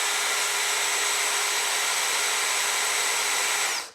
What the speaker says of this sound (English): Just so we can see what's happening here, I'm using my power drill.